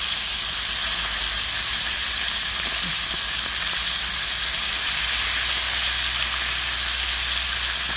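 Galunggong fish deep frying in hot oil for a Filipino home-style dish, giving a loud, steady sizzle that stays dense and unbroken throughout, with no voices.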